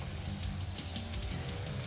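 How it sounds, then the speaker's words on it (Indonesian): Hand sanding on wood between the first and second coats of Propan Ultran teak oil, strokes following the grain, gives a soft rhythmic scratchy rubbing, close and quiet, with no voices. "di sini saya mencoba melakukan amplas di antar lapisan pertama dan kedua ini"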